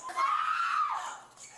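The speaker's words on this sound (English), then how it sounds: "Why is she screaming" A woman screams loudly during a confrontation involving an older woman in a kitchen, a single sustained, rising and then falling shriek lasting about a second, close and alone.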